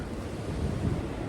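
Wind buffets the microphone over rushing surf at Ngentup beach, a steady broadband roar with gusty swells and no voices.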